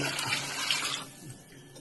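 Water is poured onto a cooked spice masala, made with shahi jeera, for fish majboos: a brief, close rush of pouring for about a second that then trails off into quieter trickling.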